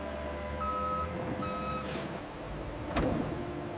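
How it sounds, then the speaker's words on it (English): Forklifts moving a rhino leather shipment in a factory: intermittent electronic reversing beeps over a constant industrial engine drone, with a sharp clank near the end. "Forklifts move the rhino leather shipment to outbound transport for global distribution."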